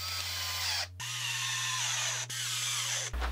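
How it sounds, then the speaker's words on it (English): A power drill drives screws into clamped wooden headboard boards, its motor whirring steadily in three bursts separated by brief stops, close up and with no talk. "I can screw all of them together, making sure the face of them are flat."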